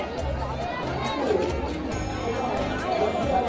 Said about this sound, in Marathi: गर्दी बघा हाय हाय गर्दी बघा भरपूर गर्दी आहे